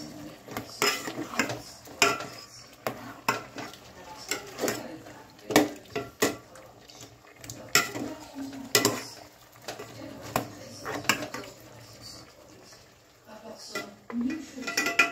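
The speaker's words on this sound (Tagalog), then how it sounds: "Kumukulo-kulo na po ng konti. Ayan, isangkot siya lang natin." Metal utensils scrape and clatter against a pot of chicken sinigang in an irregular rhythm of stirring, close and fairly loud, with brief pauses between strokes.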